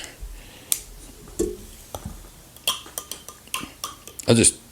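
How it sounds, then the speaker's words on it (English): Needle-nose pliers stir a cocktail in a glass, making scattered light clinks and taps against the glass. A person talks between the knocks. "I'll stir with this pair of pliers"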